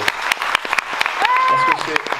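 Audience applauding Riccardo Petrella at the European Water Forum: scattered, uneven hand claps from a small crowd, with a voice speaking over part of it.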